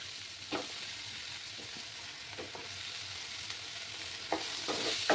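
Onion stalks (peyajkoli) frying with Kashmiri chilli powder and spices in a pan, a steady close sizzle with a few scraping stirs of the spatula, no voices.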